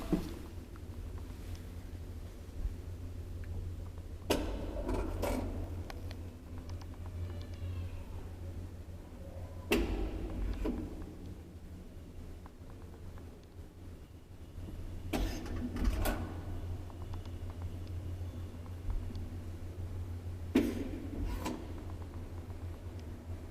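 An old Graham Brothers elevator's machinery running, with a low steady hum and a few sharp clunks and rattling bursts at intervals, faint and echoing.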